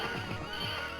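A horse whinnies in a Capcom beat 'em up video game, a single loud neigh of about a second that stands alone with no talking.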